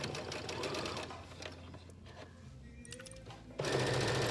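A sewing machine stitching a pencil bag, a rapid mechanical whirr that runs steadily, eases off through a pause, then starts up loud again near the end, close and without talk.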